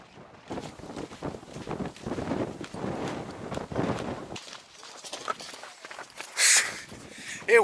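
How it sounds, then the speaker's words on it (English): Strong wind buffets the microphone in gusts while walking over the sand dunes at Jockey's Ridge State Park, a steady roar with crunching footsteps that drops quieter near the end, with a sharp gust burst. "It was way too windy on that other side."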